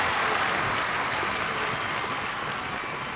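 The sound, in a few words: audience applause on a TV game show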